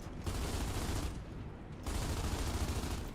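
Dense bursts of rapid gunfire in the game Gears of War 2, two sustained volleys separated by a short lull, loud and close with no voices.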